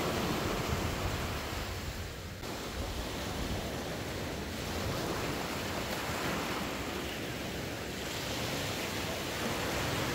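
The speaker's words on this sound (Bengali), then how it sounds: "চোখ বন্ধ করে এই ঢেউয়ের আওয়াজটা শুধু ফিল করতে পারো" Sea waves wash continuously onto the beach at Mousuni Island, a broad, steady roar of surf with wind buffeting the microphone, no voices.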